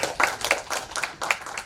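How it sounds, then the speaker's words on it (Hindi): Audience clapping at a retail industry conference event in Chandigarh, a few distinct rhythmic claps with a thin spread of other hands, fairly faint and brief. "तालियां बजाएं।"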